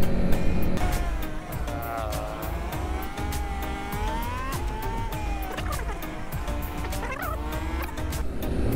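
A Honda CB150R motorcycle engine revs steadily as it climbs uphill, its pitch rising and dipping through clutchless gear shifts over constant wind rush.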